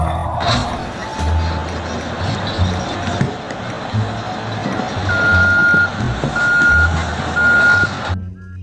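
A toy sand truck's reversing alarm beeps in evenly spaced pulses over a rumbling motor and background noise, fairly close and loud.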